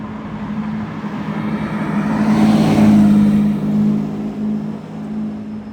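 Car engine revving inside a Monaco tunnel, a steady droning note that swells to a loud peak midway and then eases off, reverberant and alone without talk.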